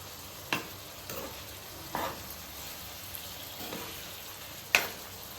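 Chicken ghee roast frying in a pan is stirred with a spoon, a steady sizzle under five or six scraping strokes, the last one a sharp clink on the pan, close and alone with no voices.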